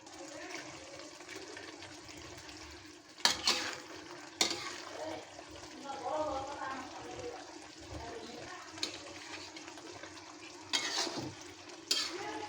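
Koi fish go one by one into spiced masala frying in a pan, giving a soft steady sizzle with several sharp hissing bursts as each piece lands, close and fairly quiet.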